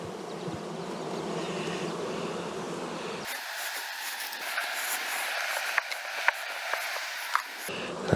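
Honey bees buzzing around an open hive during an inspection, a steady near hum that swells partway through, with a few sharp clicks and knocks of hive tools on top.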